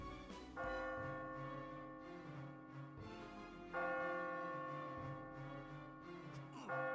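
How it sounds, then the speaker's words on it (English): Church bells toll in the video game Catherine, with three or four resonant strikes spaced a couple of seconds apart, each ringing out and sustaining. "do you guys like church bells?"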